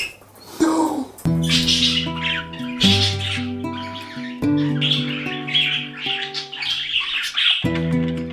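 Pet budgie giving loud harsh squawks and bright chirps, close and continuous, with a brief scrape of handling noise at the start and a steady hum beneath.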